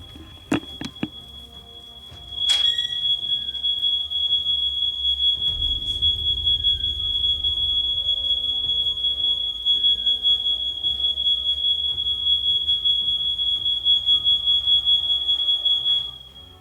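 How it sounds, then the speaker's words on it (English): A household smoke alarm sounds a loud, steady high-pitched continuous tone after a few clicks and knocks, ringing close for about fourteen seconds without speech. "the smoke alarm might need some attention"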